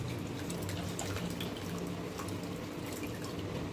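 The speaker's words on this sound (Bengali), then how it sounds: "সমস্ত ছানাটাকে নিয়ে নেবার পর আমি এর থেকে জলটাকে এইভাবে নিগড়ে নেব।" Water wrung by hand out of freshly made chhena for rasmalai, a steady close splashing and trickling that runs without a break and with no talk.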